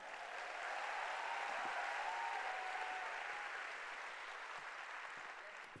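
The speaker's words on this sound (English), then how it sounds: "So must give myself a round of applause first." Sustained audience applause fills a hall at a business presentation event, a steady wash of many hands clapping that fades slightly toward the end, sounding slightly distant and with no talking over it.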